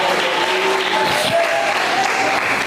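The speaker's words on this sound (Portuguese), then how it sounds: "Diga glória a Deus e bate mais palmas para o Senhor." Church congregation clapping during a Portuguese sermon, a continuous dense wash of applause throughout, with a voice faintly audible underneath.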